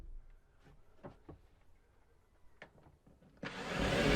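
A power driver sends screws up through countersunk holes into the ceiling battens of a Vauxhall Vivaro camper van conversion: a few quiet taps and clicks, then a loud, sustained whirring drive that builds at the end.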